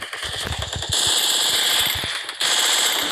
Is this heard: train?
no